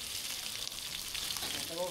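Shrimp frying in hot oil with garlic and shallots for a shrimp-and-egg dish, giving a steady, close, continuous crackling sizzle with no break throughout and no clear talk over it.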